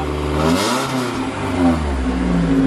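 Engine of a BMW 318Ti with a newly replaced clutch, revving as the car is put in gear: a loud, close engine note that rises and dips in pitch over a couple of seconds, with no talking.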